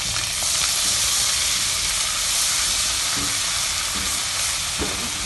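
Ginger garlic paste sizzles and hisses in a pan of golden-brown fried onions, a loud continuous frying crackle with occasional stirring scrapes.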